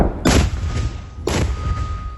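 Two heavy, booming thumps of mortar rounds firing about a second apart, loud and close, each followed by a short rumbling decay.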